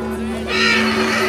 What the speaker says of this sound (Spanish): Miren a este caballo